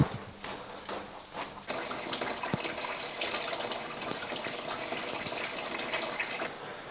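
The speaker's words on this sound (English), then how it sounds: "So this end goes into the bucket, and all we have to do is open up" Water rushes from an open tap into a bucket during an aquarium water change, a steady, splashing gush that starts abruptly and keeps flowing, close up, with no voices.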